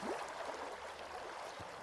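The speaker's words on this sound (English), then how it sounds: "water" Steady water ambience with a soft, continuous flowing wash like a gentle stream, even in level across the short stretch and with no voices.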